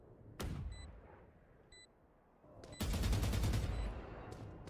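Rifle gunfire in the video game Valorant during a VCT Americas Kickoff esports match; a short burst of shots, a pause with faint beeps, then a longer rapid burst of fire, moderately loud.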